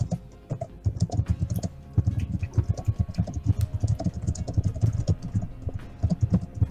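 Rapid keyboard typing, close and clear, with irregular bursts of keystrokes and brief pauses over a quiet background.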